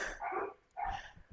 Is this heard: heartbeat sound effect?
no